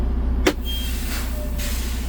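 A CDL training truck's air brakes being set after a smooth stop from 5 miles an hour: a single sharp, loud hiss of released air bursts over the low idling engine hum, then fades quickly.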